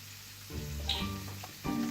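Beef fillet sizzles steadily in a pan returned to the flame, a soft continuous frying hiss with a few faint clinks and stirring touches, no talking.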